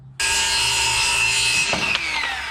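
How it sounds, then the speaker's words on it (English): A saw cuts a 30-inch length of wooden window trim, starting abruptly and running as a loud, continuous close whine with steady tones that waver slightly near the end of the cut. "Okay, so I'm gonna go ahead and cut a 30 inch."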